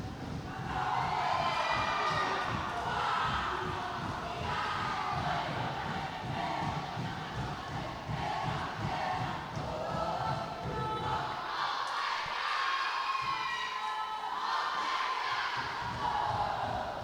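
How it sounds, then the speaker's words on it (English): Schoolboy sepaktakraw teams chant a long, loud team cheer together with rhythmic shouting and clapping. The voices echo through a sports hall at a national division final. "an elaborate cheer to set us underway"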